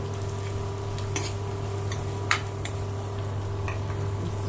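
Curry leaves tossed into hot oil for a tempering, with a steady low sizzle and frying hiss under occasional light clinks and scrapes of a stirring spoon against the pan, no talking.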